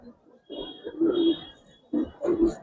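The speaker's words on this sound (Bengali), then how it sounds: "সাপচিলা কবুতর" Sapchila pigeons in a loft give soft, close coos in two short bursts separated by a brief pause, low and throaty, with people talking alongside.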